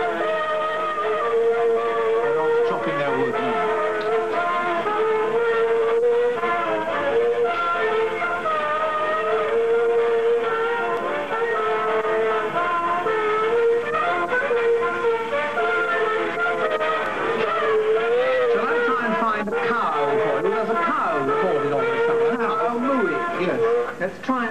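A 1912 Edison cylinder phonograph plays a recording of a German march, a steady, loud band melody with surface noise that runs continuously throughout, without talk.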